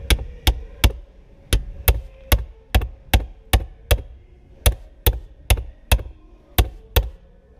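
Tool tapped repeatedly during windshield removal on a Toyota Land Cruiser or Lexus LX470, a sharp evenly spaced series of about twenty hard knocks, close and clear with quiet between strikes, no talk.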